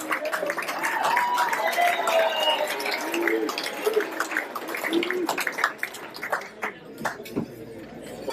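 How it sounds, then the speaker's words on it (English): Applause from an audience fills the room, dense clapping with crowd noise that tapers and thins toward the end. "these applause are very well deserved"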